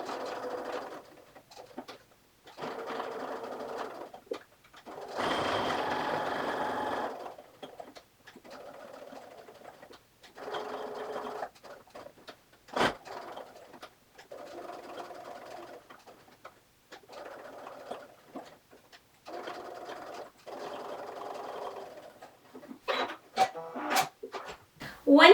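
A home sewing machine stitches around the edges of a small fabric key ring chapstick holder, its needle set far right; bursts of motor whirring start and stop in short runs, with faint bird cooing in the background.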